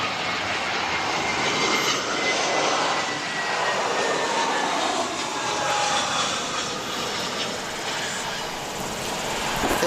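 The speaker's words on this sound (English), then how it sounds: "That is NZ429 from Auckland, ZK-OXI. It's a 7-year-old Airbus A320." Jet engines of a seven-year-old Airbus A320 airliner at Wellington Airport roar steadily and loudly throughout, a broad sustained rumble with no talking.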